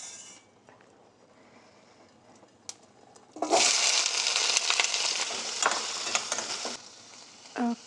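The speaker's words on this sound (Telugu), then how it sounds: "కందగడ్డ తాళింపు చేసేద్దాము." Sweet potato tempering in a pan bursts into loud, close sizzling partway through, then crackles and hisses steadily with stirring, after a quieter stretch of low kitchen noise.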